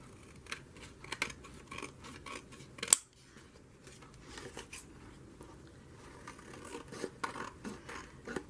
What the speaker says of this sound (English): And I just need to trim a little bit.